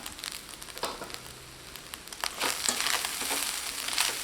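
Cooked parboiled rice is folded into fried coconut in a pan for coconut rice. Quiet scraping and crackling rise into a denser, busier stir of grains over a faint sizzle.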